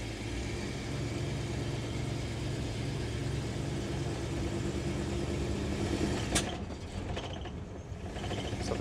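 A 1980 Dodge Ramcharger engine, timing thought to be too retarded, runs with a steady low rumble at a moderate distance, then gives one sharp crack-like pop near the end.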